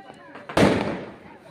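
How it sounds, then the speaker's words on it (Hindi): Diwali firecrackers burst outside during the festival, one loud, close bang with a decaying rumble after a short lead-in. "ये भी पटाखे छोड़ रही है।"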